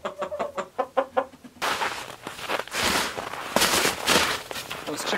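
Chickens on a snowy farmhouse morning at about 24 below make a quick run of close, rhythmic clucks. A broad, noisy scraping, crunching wash covers the rest of the clip.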